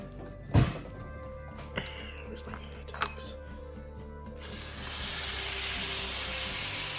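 Shrimp hitting a hot pan with garlic butter set up a broad, steady sizzle that swells and holds for the last few seconds, following a few clanks and knocks of cookware.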